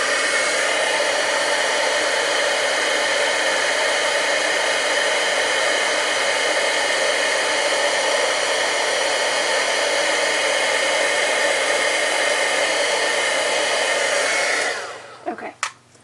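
Heat tool blowing hot air for heat embossing a stamped sentiment, a loud steady whooshing roar held for about fifteen seconds before it clicks off, with no voices.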